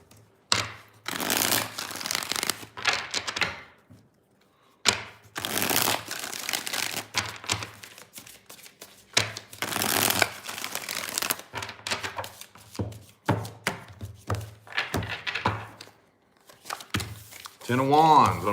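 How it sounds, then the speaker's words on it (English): Cards are riffle-shuffled in several loud, crisp bursts, with short quiet pauses between rounds. "Three shuffles, three more."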